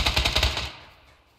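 A rapid burst of gunfire in PlayerUnknown's Battlegrounds, about eight quick shots in a tight rhythm, fading out into a short echoing tail.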